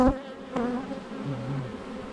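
Honeybees buzz close by at an open hive, a droning hum that wavers in pitch over a couple of seconds.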